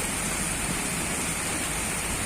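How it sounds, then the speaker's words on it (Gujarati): Heavy rain pours steadily over Jetpur town in Rajkot district, a dense, even broadband wash with no pauses and no voices. "રાજકોટ જિલ્લાના જેતપુર શહેરના છે ધોધમાર જે વરસાદ જે વરસી રહ્યો છે"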